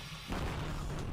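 The ISAR Aerospace Spectrum rocket explodes during its test flight, a sudden deep boom that breaks into a sustained rumbling roar, loud and heavy in the low end, with no voices over it.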